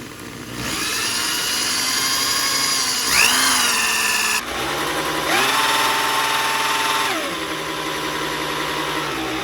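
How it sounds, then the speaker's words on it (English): A power tool whirs steadily while bolting down a part during a V8 engine swap on a 1964 Chevrolet C20 pickup, loud and close, with brief pitch dips as it bites, then trailing off. "So now we're gonna bolt this down."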